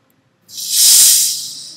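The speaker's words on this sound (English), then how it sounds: "got a good fizz to it" Fermented soda fizzing as it is opened or poured, a sudden rush of bright carbonation hiss that swells and then slowly fades, close and loud with no talk.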